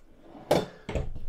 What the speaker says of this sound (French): Donc, on va avoir un tiroir.